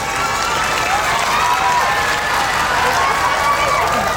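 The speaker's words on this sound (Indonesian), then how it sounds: "Kita berikan aplaus yang luar biasa untuk beliau." Audience applause at a Quran memorizers' (hafidz and hafidzah) confirmation ceremony in Lamongan Regency, a steady, dense wash of clapping that holds evenly loud throughout.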